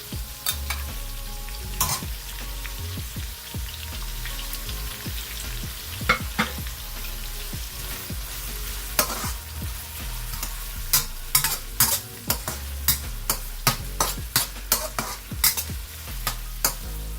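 Garlic frying in a hot wok: a continuous close sizzle broken by sharp clanks and scrapes of a spatula stirring against the metal, growing busier toward the end.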